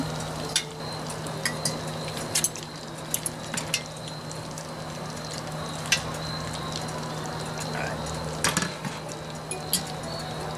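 Spaghetti is scooped and mixed into beans in a pot while cooking off grid, giving soft sizzling under scattered clinks and scrapes of a utensil at irregular intervals.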